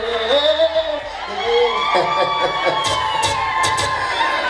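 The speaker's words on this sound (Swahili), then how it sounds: "Ongeza makofi mengi na vilio vingi vya kutosha." Wedding guests cheer at a celebration, raising a loud, sustained crowd roar with overlapping voices and whoops that swell toward the end.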